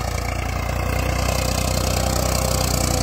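Farmtrac 60 tractor engine idling while stopped, a steady low diesel chug with an even rhythmic pulse, loud and close throughout, no talk.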